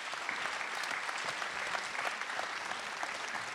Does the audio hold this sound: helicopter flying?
no